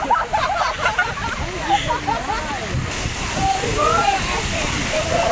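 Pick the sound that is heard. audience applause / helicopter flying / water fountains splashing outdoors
water fountains splashing outdoors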